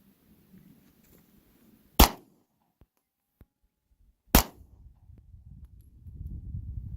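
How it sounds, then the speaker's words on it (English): Two sharp, loud Glock pistol shots fired at a target, spaced about two seconds apart, each a single crisp crack with a brief tail, followed by low rustling and handling noise. "I'm going to shoot at that top dot."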